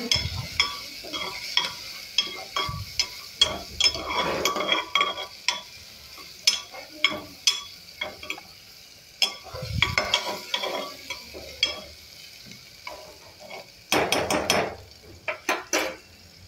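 Asafoetida and turmeric frying in hot oil for a sprouted moth bean curry, stirred with a utensil: a steady sizzle runs under repeated scraping and clinking strokes against the pan, close and fairly loud, with no talking.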